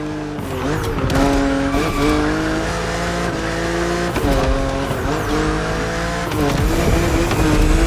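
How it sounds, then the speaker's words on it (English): BMW Z4 E89 coupe cabriolet driven hard in The Crew Motorfest racing game, a loud continuous engine drone rising and falling through gear shifts with repeated tire squeals and skids. "But you are driving a coupe cabriolet, so I guess you could theoretically enjoy the open air if you wanted to."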